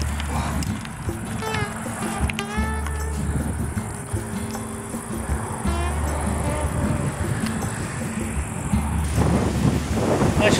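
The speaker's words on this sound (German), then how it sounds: "sehr windig wie gesagt heute" Strong wind gusting over a hilltop during a bicycle tour through the Black Forest, a steady loud roar and microphone buffeting throughout, with faint chirping birds and a low rumble beneath.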